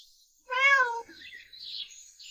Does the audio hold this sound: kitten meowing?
yes